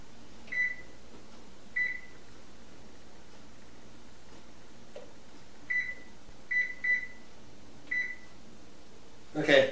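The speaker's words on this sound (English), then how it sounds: "we're going to set a timer for 30 minutes" Oven timer being set to 30 minutes for baking tilapia at 400 degrees, a series of short, clear electronic beeps spaced irregularly over a faint kitchen hiss, followed by a brief rustle at the end.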